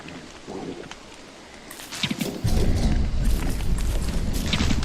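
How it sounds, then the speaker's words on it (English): Rain falling in the survival game Don't Starve, a steady broadband hiss that swells louder partway through with heavier patter and low rumble, no voices over it. "Oh great, now it's raining."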